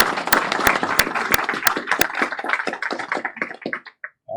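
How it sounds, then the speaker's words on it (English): Applause at a police promotion ceremony, a crowd clapping sharply for several seconds before thinning out and fading away. "Can you give Lamar a round of applause?"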